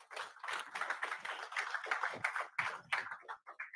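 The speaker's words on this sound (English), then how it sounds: "let's give a round of applause." Audience applause at a business school pitch day award, dense patter of many hands clapping steadily, moderately loud, then thinning toward the end.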